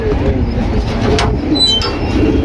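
Domestic breeding pigeons cooing close by in a loft, soft low coos over a background hum, with a couple of brief sharper sounds and some talking.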